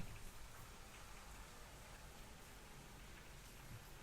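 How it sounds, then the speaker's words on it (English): Steady rain falls outdoors, a soft, even hiss of drops on surfaces that continues without a break at low level, with no one speaking. "Yeah, it is raining."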